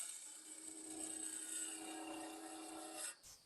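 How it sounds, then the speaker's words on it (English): A lathe turns cherry wood as a tool cuts shavings, producing a steady, close scraping hiss with a sustained hum that stops abruptly near the end. "with a nice fine wood like cherry, you get some great shavings"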